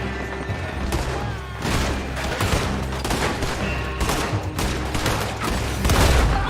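Gunfire in a Red Dead Redemption 2 story mission, dense overlapping shots and blasts forming a continuous loud fusillade throughout, with game voices shouting beneath.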